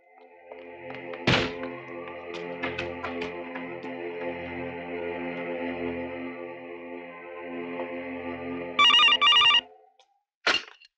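A telephone bell rings in a short, bright burst during a phone call scene, following a few dull thuds and a steady background tone, then a final sharp knock.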